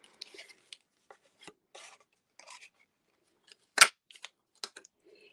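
Scissors snipping through stamped paper cardstock pieces for a craft color challenge: sparse, quiet cuts and rustles spread across the clip, with one louder, sharper snip near the end and no talking.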